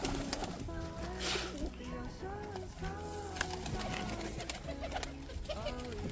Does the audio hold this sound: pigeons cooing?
yes